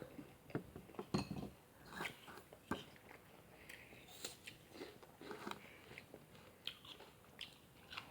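Crisp bites of apple dipped in chili salt, with repeated close crunches and moist chewing at an uneven pace, faint and occasionally punctuated by light clinks.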